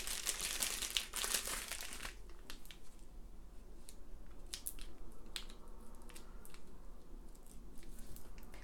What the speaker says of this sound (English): Peel off the little stickies that are on the back side